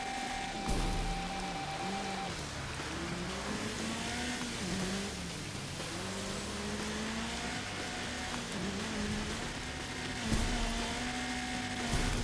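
Rain patters steadily through a rally race in the PC video game Gravel, blended with a car engine that climbs and drops in pitch as it accelerates and shifts, with no voices.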